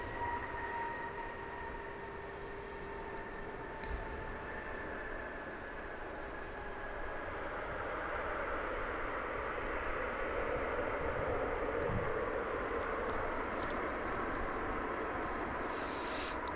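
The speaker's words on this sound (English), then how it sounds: "And that was American Flight 1595, an A319 indeed, making its way here from Austin, Texas." An American Airlines Airbus A319 passes at DFW Airport, a steady jet roar with a faint high whine that swells and lingers, heard from a distance with no talk over it.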